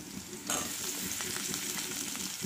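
Eggplant pieces dropping into a pan of browned onions, with a sudden burst of loud close frying sizzle that keeps crackling steadily afterward.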